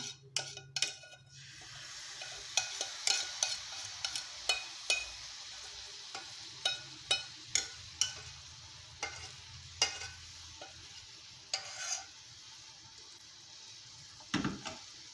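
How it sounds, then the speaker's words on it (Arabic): Cornflakes stirred with melted chocolate in a bowl, giving repeated sticky scraping and clacking strokes in a steady rhythm, close and fairly loud, with no talk. "كنضيفوا داك الشكلاط وكنحركوا داك الكونفليكس."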